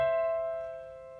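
A piano's right hand sounds a single clear, sustained note that rings steadily and slowly fades, close and alone with no talking.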